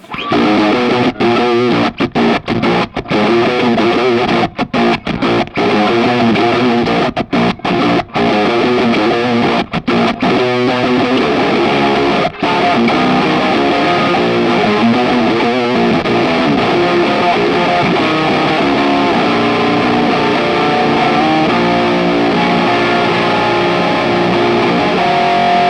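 Heavily distorted guitar through a ZVEX Fuzz Factory combined with another fuzz pedal plays loud and continuous, with choppy, stuttering cutouts breaking up the thick, buzzing tone.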